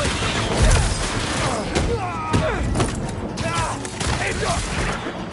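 Rapid gunfire and crashing impacts in Marvel's Spider-Man 2, dense and continuous over a busy action mix, with shouted voices in the background.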